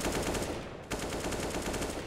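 Counter-Strike gunfire punches through walls on the Inferno map in a professional match, sustained rapid automatic shots, loud and close, with a brief gap before the burst resumes.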